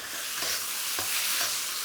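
Beef frying in a smoking hot wok with Hunan sauce mix added, a steady broadband sizzle with faint stirring scrapes, continuous and close, no talking.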